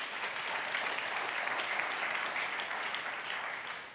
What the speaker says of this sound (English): So a big round of applause for today.